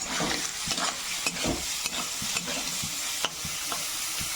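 Chopped chilli and onion fry in oil for a prawn omelette, a close, steady sizzle broken by repeated scraping stirs of the spoon against the pan, with no one speaking.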